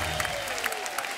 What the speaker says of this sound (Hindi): एक बार अनीता हसनंदानी के लिए जोरदार ताली